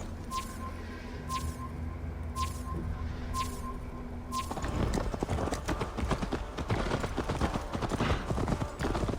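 Horse hooves clip-clopping in the video game Assassin's Creed Valhalla, starting with a few sparse steps over a steady hum, then breaking into a dense, busy run of rapid hoofbeats.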